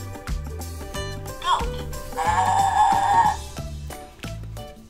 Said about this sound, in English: Let's listen to the sound of the goat.